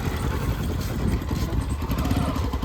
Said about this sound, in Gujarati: ઉપર કોકનું બાઈક આવે છે